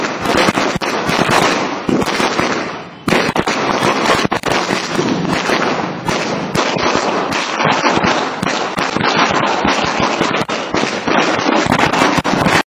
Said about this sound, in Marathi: अकोले तालुक्यात देखील फटाके फोडून जल्लोष साजरा करण्यात आलाय.